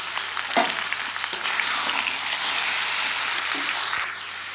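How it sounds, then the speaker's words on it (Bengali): Hot mustard oil is poured slowly over raw mango pieces and stirred for a village-style mango pickle, giving a steady broadband sizzle with a few sharp scraping knocks, close and continuous without speech. "খুব আস্তে আস্তে ঢেলে দিচ্ছি, কারণ গরম তেল ছিটকে পড়ে যেতে পারে।"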